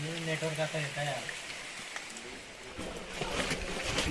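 Steady rain patters on surfaces outdoors at a hilltop fort and temple in Ranthambore, a soft broadband hiss throughout, with a voice briefly speaking at the start.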